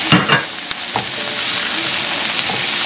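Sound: green chili and tomato frying in pan for mushroom bean curry

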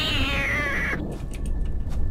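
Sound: cat meowing in indie horror video game Sinister Halloween

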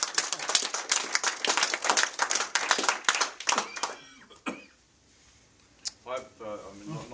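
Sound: audience clapping

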